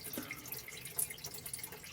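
Water drains from an ultrasonic cleaner used to wash LEGO parts, heard as a faint, close trickle with scattered soft drips, steady and quiet without any voices.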